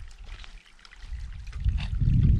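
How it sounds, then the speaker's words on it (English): Small trickle of water at a backcountry water source near Manning Park, a soft, close, uneven flowing and dribbling that grows slightly louder toward the end, with no talk. "Yeah. It's a little trickle."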